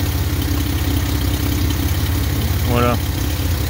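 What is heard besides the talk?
1950 Plymouth flathead six engine idling, dual exhaust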